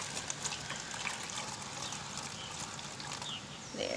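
Warm water poured into a camp cooking pot over fish being steamed outdoors, a steady soft trickling wash throughout, close but fairly quiet, with faint birds in the background.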